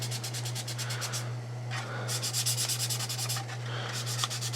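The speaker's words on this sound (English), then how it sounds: "A little bit of wet sanding." Wet sanding by hand with a sanding sponge: close, repeated rhythmic rubbing strokes in bursts with short gaps, a steady low hum underneath.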